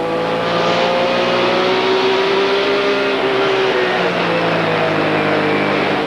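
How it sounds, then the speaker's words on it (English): A 1998 ASA stock car races around the half-mile LaCrosse Fair speedway, its engine droning loud and steady as the driver rolls on and off the throttle without shifting, the pitch rising and sagging. "they're definitely on and off the throttle, on and off the brakes, all the way around this half-mile speedway"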